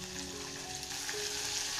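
Tomatoes and peas hit a hot frying pan of spiced oil, cloves among the spices, for an aloo matar paneer gravy, setting off a steady, close sizzle that holds evenly throughout with no voices.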